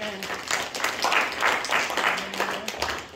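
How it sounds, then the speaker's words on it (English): A church congregation at a Sunday morning service claps in a rhythmic, moderately loud burst of several seconds, with some voices mixed in. "Let's give the Lord a clap up and get excited."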